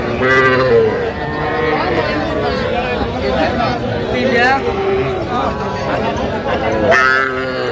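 Several cattle, including young heifer calves, moo repeatedly over a busy crowd of voices at a livestock market, the calls overlapping and carrying loudly through the noisy outdoor gathering.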